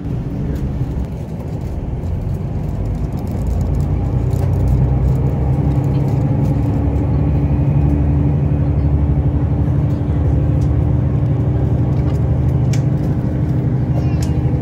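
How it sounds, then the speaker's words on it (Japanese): Low, steady engine rumble and hum from the Rapid Mie No. 9 train pulling out of Nagoya Station, heard from inside, rising slightly as it gets under way and continuing evenly with no talking. "列車は名古屋駅を発車していきます"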